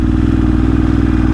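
A Ducati motorcycle engine runs close and loud with a steady, lumpy rumble and a fast, even pulse throughout.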